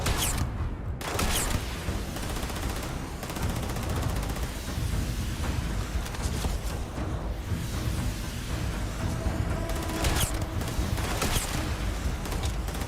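Gunfire in the video game Starfield: steady, dense bursts of shots rattling on for several seconds, with a few sharper cracks standing out near the start and end, fairly loud in a busy mix.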